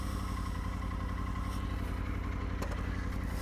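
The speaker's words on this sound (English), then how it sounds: "let's just park the bike right here" A motorcycle, a new adventure-style bike, runs at a steady close idle as it is brought to a stop and parked, its engine note rumbling evenly throughout with a faint clatter near the end.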